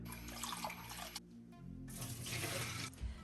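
Water runs from a tap in a steady stream while rinsing quinoa, briefly interrupted, then flowing again; close and fairly quiet.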